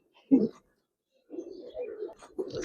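A pair of pigeons, an Army-breed male and a Babu-line female, coo in low, soft bursts: one short call, a pause, then a longer run of murmuring coos close by.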